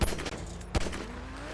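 Pistol shots in GTA Online's Pistol Vs Super Cars adversary mode, two sharp close bangs about three-quarters of a second apart, with game ambience between them.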